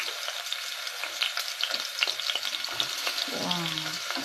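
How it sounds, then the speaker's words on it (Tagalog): Garlic, onion and chili sautéing in oil for squid adobo, a close, steady frying sizzle with light stirring scrapes, and a brief voice near the end. "Next, saute the garlic, the onion,"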